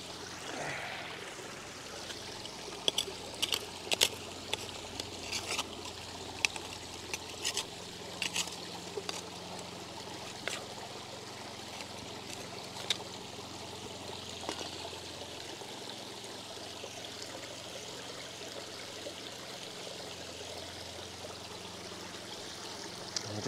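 Water trickles and splashes steadily down the cascades of a garden pond in a wooded setting, with a soft continuous flow and scattered louder drips and knocks, heard without talk.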